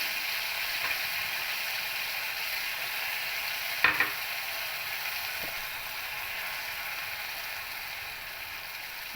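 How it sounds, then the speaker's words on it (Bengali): Cumin paste, salt and turmeric sauté in a pan for a pabda fish curry, a soft, even sizzle with faint stirring and one sharp clink of a utensil midway. "এবার এর ভিতরে একে একে জিরে বাটা, লবণ, হলুদ দিয়ে হালকা কষিয়ে নেব"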